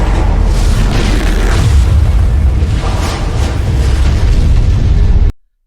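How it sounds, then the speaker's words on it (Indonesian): Loud, continuous anime explosions as kaiju monsters blow themselves up like living missiles, a dense roaring barrage of booms that rolls on without pause before cutting off abruptly at the end. "Yoju-Yoju itu meledakkan diri mereka"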